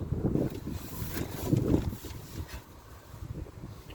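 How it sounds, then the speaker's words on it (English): Strong gusts of wind blowing in from the south on a hot day, rough buffeting rushes that swell loudly early on and then ease to a lower, uneven roar, with no talk. "all of a sudden I get like massive gusts of wind coming from the south"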